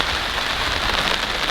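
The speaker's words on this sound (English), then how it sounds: "now you can probably hear the rain now. It's pretty good, it's coming down really nice." Heavy rain pours down steadily on an urban farm, a loud, dense, close hiss of drops hitting surfaces, with no voices.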